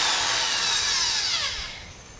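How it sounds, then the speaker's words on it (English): A power drill whirs steadily at close range with a high, bright motor whine while drilling a patio awning gutter, then winds down and fades near the end. "When you're drilling something like this"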